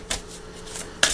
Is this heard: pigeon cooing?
no